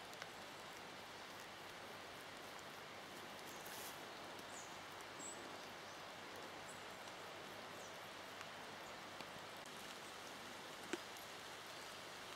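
Steady rain falls through a mountain forest in Romania's Buila-Vânturarița area, a dense even hiss of drops pattering on leaves throughout, with a couple of sharper close drips standing out and no talking.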